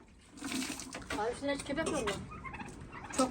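Turkeys gobble in warbling bursts while a person calls out to them nearby.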